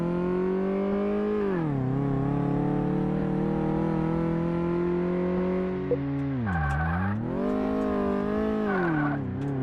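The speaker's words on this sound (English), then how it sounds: "Like the engine audio and stuff" A car engine in the driving sim Car Mechanic Simulator 2018, a loud, steady droning rev that holds a tone, dips sharply twice as gears change and climbs again, with brief tire squeals near the end.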